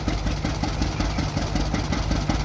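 An old John Deere G tractor engine runs steadily at idle, close and loud, with an even low putting beat throughout.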